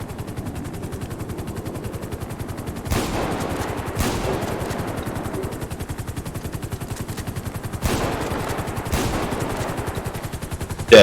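Video game roleplay gunfire rattles as sustained rapid automatic bursts, loud and close. Several sharper, heavier shots cut through the stream, and no one talks over it.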